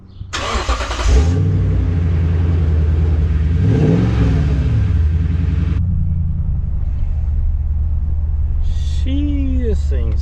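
A Toyota Tundra fitted with a Flowmaster exhaust starts up and revs, a loud, close, deep rumble that rises and falls through a couple of throttle blips before settling into a steady idle.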